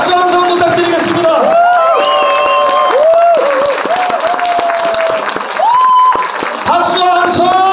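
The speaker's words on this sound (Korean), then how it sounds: "다시 한번 박수 함성 부탁드리겠습니다" At a book launch at Ochang Lake Library, an indoor crowd gives sustained, dense applause with scattered cheers, fairly loud and close, while an amplified voice talks over the clapping.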